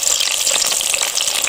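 Taro pieces fry in hot oil, giving a steady, dense sizzle and crackle from close up with no break across the short stretch.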